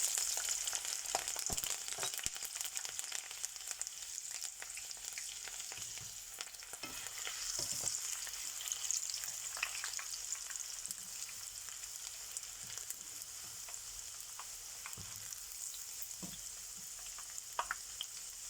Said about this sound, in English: Now I'm going to fry first these into the oil.